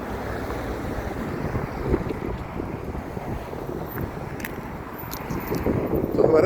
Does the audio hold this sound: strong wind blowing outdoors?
yes